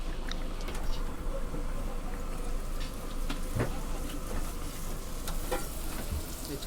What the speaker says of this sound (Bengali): অলরেডি নান নান ভাজা ভাজা চলছে